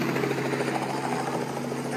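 A helicopter giving tours flies over a state fair, its rotor producing a continuous loud, steady chopping roar throughout, with voices mixed in.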